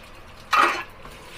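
A brief, bright burst of sizzling as marinated beef hits a hot oiled wok, lasting under half a second, with faint clinks and quiet around it.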